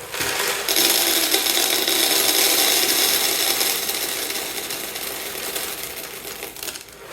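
Clay balls pour into an enclosure as a drainage layer, a loud, steady rattling cascade of many small hard pellets that starts abruptly, holds for several seconds, then tapers slightly, close by with no talk.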